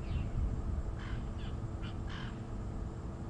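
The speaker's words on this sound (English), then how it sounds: "lots of bird noises" Several birds call in a feeding party during an evening safari drive in the African bush, with crow-like caws and squawks in short bursts over a steady low engine rumble; no talk.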